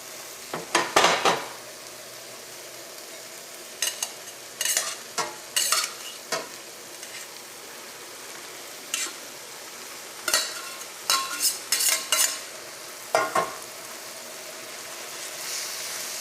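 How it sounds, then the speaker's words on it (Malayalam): Pasta tipped into oil in a frying pan for a chicken pasta dish and stirred, giving a steady low sizzle broken by repeated sharp scraping and clattering bursts of stirring, close and fairly loud, no talk. "ഇനി നമുക്ക് ഇതിലേക്ക് പാസ്ത ചേർക്കാം."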